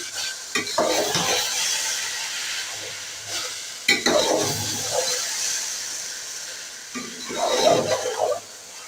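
Carrot halwa with khoya is roasted and stirred in a pan, a steady close sizzle under repeated scraping strokes of a spatula, with occasional sharp clinks against the pan.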